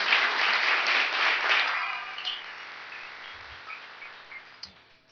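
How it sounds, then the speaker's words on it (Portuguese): A church congregation applauds, the clapping loud at first, then thinning and fading out over about five seconds, with a few scattered claps and small noises near the end. "Vamos aplaudir."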